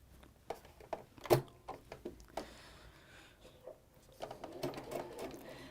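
Home sewing machine stitching a half-inch garment seam, with short bursts of rapid whirring stitches separated by pauses and small handling clicks, close and moderately loud.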